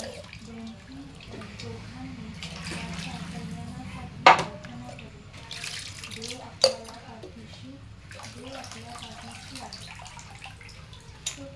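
Vaydya fish are washed by hand in a pot of water, with soft sloshing and splashing and a couple of sharp clinks against the vessel, while a person talks throughout.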